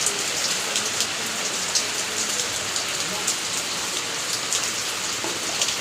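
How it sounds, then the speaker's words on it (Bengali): Steady rain falls outdoors while people bathe in it, a dense, even patter of drops on surfaces that continues without a break from start to finish. "বৃষ্টি পরে টাপুর টুপুর"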